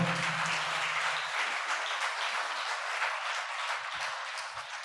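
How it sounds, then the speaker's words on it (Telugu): A church congregation at a special prayer gathering applauds loudly, a dense steady roar of clapping that carries on without pause and fades only slightly toward the end. "చప్పట్లు కొట్టండి అందరూ గట్టిగా."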